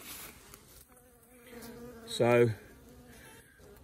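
Honey bees buzzing around beehives, a soft background hum with one bee passing close and loud for a moment, someone briefly speaking.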